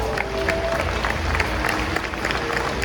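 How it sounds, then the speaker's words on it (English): A crowd at a Belgian draft horse show at the Iowa State Fair applauds steadily in a dense wash of clapping, with some voices mixed into the noise. "If you would give them a nice round of applause."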